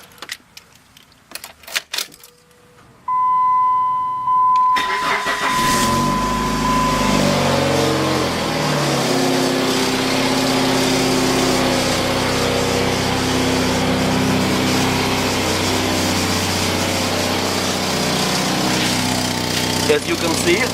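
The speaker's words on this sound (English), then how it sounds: "Demonstration on how it sounds with a small leakage in a pipe." Engine exhaust idling with a small leak in the pipe, a steady loud broadband rumble and hiss after a few brief clicks and a short tone at the start, continuous and close for the rest.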